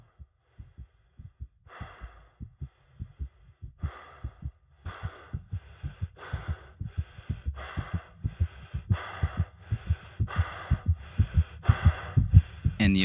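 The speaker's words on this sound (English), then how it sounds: "The heartbeat and breathing are also faster when the player's health drops below 30." A quickening heartbeat loop from a video game at low health, deep regular thumps growing faster and louder, with heavy rhythmic breathing layered over them and no talking.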